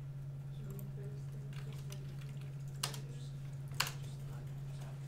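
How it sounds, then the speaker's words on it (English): Attendees at a programming workshop type on computer keyboards, making soft scattered clicks over a steady electrical hum, with two sharper taps standing out. "Everyone's typing."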